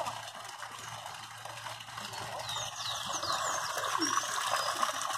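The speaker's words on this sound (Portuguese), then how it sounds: "uma fonte feita pelos homens" A man-made water fountain with carp in its basin splashes steadily in a flower-lined town square in Holambra, giving a continuous broad wash of falling water with faint outdoor background sounds.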